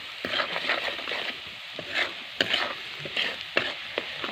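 Finely chopped garlic and coconut frying in oil in a pan for a spicy moong dal amti made with black masala: a soft, steady sizzle broken by repeated scraping stir strokes.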